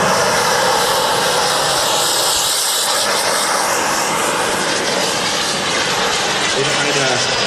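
A large RC scale model BAE Hawk with a turbine jet engine taxiing at the Jetpower Fair 2016, a loud, steady, high-pitched whine and roar that fills the whole stretch without letting up.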